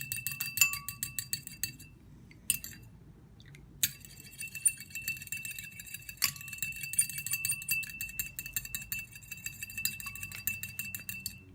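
Homemade hair toner ingredients, including a gel, being mixed in a container: repeated light clinks and taps of a utensil against the vessel, soft and close, with brief pauses between bursts of stirring.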